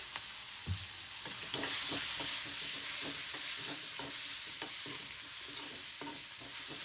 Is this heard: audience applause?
no